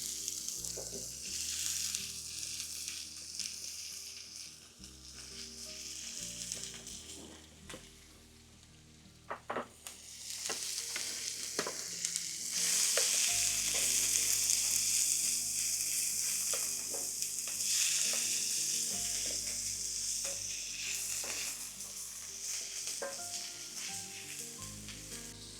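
Fisherman's brewis sizzles steadily as it sautés in a pan on low heat, a continuous frying hiss with occasional stirring scrapes and small clicks, close and alone.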